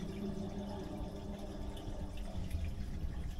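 Water running through a drain pipe clogged with grease deposits, a faint, continuous low gurgling rush with occasional soft drips, steady and distant with no talking.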